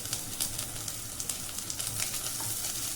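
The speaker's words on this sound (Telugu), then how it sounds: "ఉల్లిపాయల కలర్ చేంజ్ అయ్యేవారు కూడా వేయించండి" Sliced onions fry in hot oil with curry leaves and green chillies, a steady close sizzle with light crackling pops that carries on without pause and with no voices.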